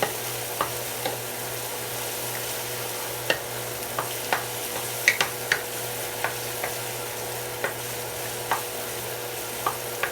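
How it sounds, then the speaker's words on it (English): Chopped green pepper, garlic and red onion frying in hot oil, a steady close sizzle with scattered sharp pops and spatters and occasional stirring, no one speaking. "green pepper, garlic, and red onion. And be very careful because the oil starts jumping out to burn."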